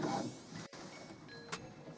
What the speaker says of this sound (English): Your printer will now check the ink cartridges, make sure it's happy, it can read the chip on them